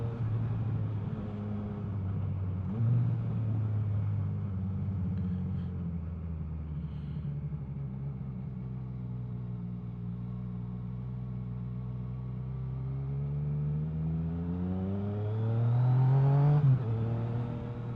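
A motorcycle engine climbs through first, second and third gear on Pyrenees mountain roads, a near, steady humming drone with rising pitch sweeps as it shifts and a louder surge near the end, no talking.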